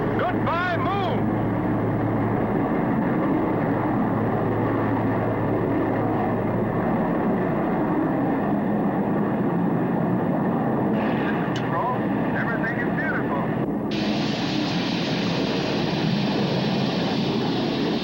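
A spacecraft engine ignites and throttles up as a sound effect in a 1979 TV movie, a loud, steady, broad roar that holds throughout and gains a brighter hiss toward the end.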